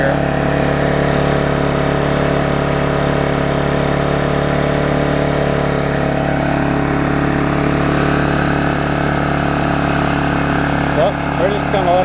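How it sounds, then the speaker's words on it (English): A Vulcan 18-inch lawn mower engine fitted with a bigger muffler runs steadily near the listener with a fairly quiet, even drone. A brief clatter is heard near the end. "I knew with the bigger muffler it'd be actually a pretty quiet mower. It's not too loud."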